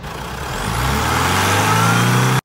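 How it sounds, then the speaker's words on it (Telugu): A 2015 Honda City SV petrol car engine starts on a single crank and settles into a steady, rising hum, close and loud, cutting off abruptly at the end. "ఇంజన్ పరంగా చూసినట్టయితే సింగిల్ సెల్ఫ్కే స్టార్ట్ అవుతుందండి"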